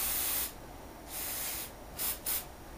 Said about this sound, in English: I'm going to actually spray this some more.